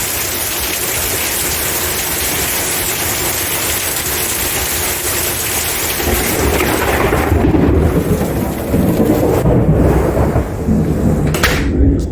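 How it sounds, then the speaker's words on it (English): Heavy downpour roars steadily and loud, with deep thunder rumbling through the middle and a sharp crack near the end, no voices present. "it's been raining like this for the last 30 minutes"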